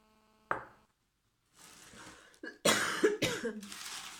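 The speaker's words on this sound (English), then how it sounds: "Apologies for the coughing." A person coughs several times close up, a short isolated cough followed after a pause by a rough cluster of throaty coughs.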